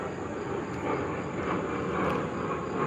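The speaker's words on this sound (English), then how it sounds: "Airplane." A fixed-wing airplane passes overhead, a steady broadband engine roar holding at a constant level from start to finish with no other sounds.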